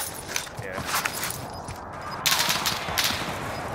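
Video game gunfire from enemy snipers, a dense crackling barrage of shots that swells louder partway through, with mechanical clatter and no speech.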